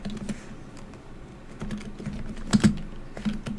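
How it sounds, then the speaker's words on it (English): Keystrokes on a computer keyboard tapping out text, a steady patter of clicks with a couple of louder key strikes near the end, close and alone with no talking. "type whatever you want"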